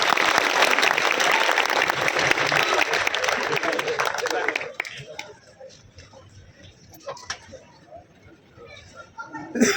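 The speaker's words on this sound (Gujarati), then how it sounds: "એકવાર જોરદાર તાળીઓથી વધાવીએ આપણે" A crowd applauds loudly for a guest welcomed on stage with a bouquet at a community ceremony honouring educational progress; dense clapping fills the first half, then fades to scattered claps under low murmuring.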